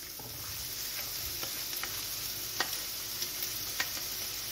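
Spring onion, garlic and red onion fry in olive oil in a skillet, a soft continuous hiss with sharp intermittent ticks and taps from stirring, close and fairly quiet, with no voices.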